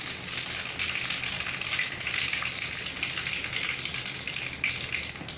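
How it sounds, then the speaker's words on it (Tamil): Mustard seeds sizzling in well-heated cooking oil for a Tamil lentil kulambu, a steady, loud hiss of frying that runs without a break and with no voices. "எண்ணெய் நல்லா காஞ்சிச்சு. கடுகு போட்டுக்கலாம்."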